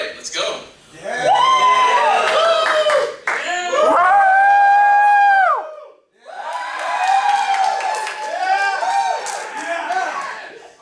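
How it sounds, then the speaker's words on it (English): Panel audience at the Retropalooza Houston 2019 retro gaming convention yelling and whooping as loud as they can, in three long, loud bursts of massed voices with short dips between. "I want you to cheer as loud as you can for which one you want us to hear the most"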